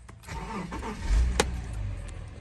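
A Subaru engine cranks and catches, rumbling up briefly before settling into a steady idle, heard from close by.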